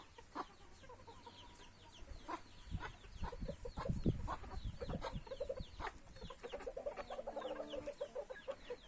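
Chickens cluck and squawk in short bursts around a coop, several birds near and moderately loud with scattered calls overlapping, without any talk.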